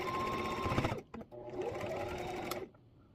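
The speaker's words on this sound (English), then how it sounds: "Now we're going to stitch these guys down" A sewing machine stitching fabric, a fast close mechanical whir with a brief pause and stutter around one second, then running again before stopping.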